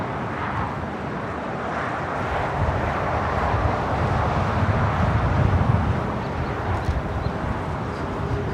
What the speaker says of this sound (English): we got the Korean Air Flight 11 A380 Super